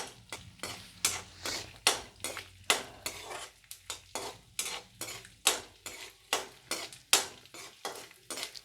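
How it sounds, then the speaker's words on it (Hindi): Gond kani, an edible gum, roasting in pure desi ghee in a kadhai, with a rapid, rhythmic run of spoon-on-pan scraping and clinking strokes over a faint, steady sizzle. "अब सेम पैन में, कढ़ाई में यह गोंद कणी को डाला गया है और इसे भी इसी तरीके से भून लिया जाएगा।"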